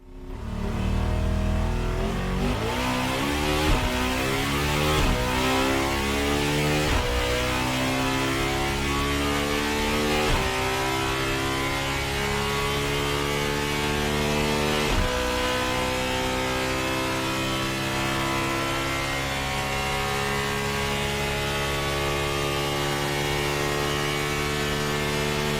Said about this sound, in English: in case you wondered, here's what that engine sounds like